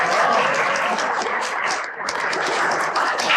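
Audience applause at a ceremony welcoming a teacher on stage, a steady wash of clapping with a brief dip in the middle before it swells again.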